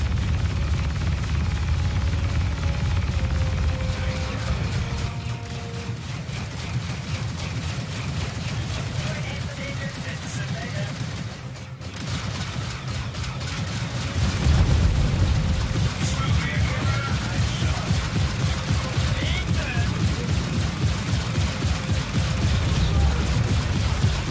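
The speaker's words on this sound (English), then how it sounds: "It's the railgun hits, man. Feel them coming towards the screen. Mega missiles." Railgun hits and mega missile explosions rumble in the Star Citizen video game, a dense, continuous roar of deep booms that swells louder in the second half, with no talk.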